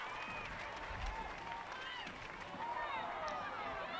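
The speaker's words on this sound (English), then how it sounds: "And you can hear as well the home crowd." Home crowd noise at a women's A-League football match in Brisbane, a distant, steady stadium roar with whistles and shouts, heard under a commentator's talk.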